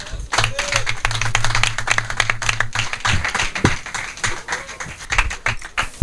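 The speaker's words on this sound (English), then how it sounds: "Another round of applause for them," An audience at a hackathon applauds a team in scattered, uneven claps that build and then thin out, close by, with a voice speaking over the clapping.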